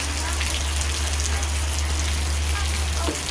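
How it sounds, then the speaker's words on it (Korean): Heavy rain pours steadily, a dense, loud, continuous wash of drops on surfaces close around with a low rumble beneath, no clear voices. "비가 너무 많이 와."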